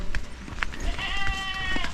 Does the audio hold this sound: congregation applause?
no